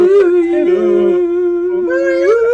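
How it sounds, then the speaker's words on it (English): Several dogs howl along to a group singing happy birthday, long wavering mournful wails rising and falling over about two and a half seconds, close and loud, with voices singing beneath. "Dogs are crying everywhere."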